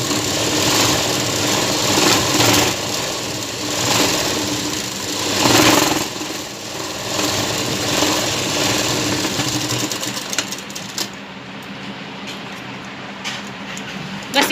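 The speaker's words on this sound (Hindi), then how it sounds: "अब फिर आपको एक सिलाई और यहाँ लगानी है।" An electric sewing machine stitches a blouse with a continuous close whirring hum that pulses in waves, then drops to a quieter, sparser run in the last few seconds.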